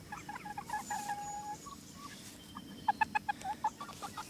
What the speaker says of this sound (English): Oh yeah, that's the rooster.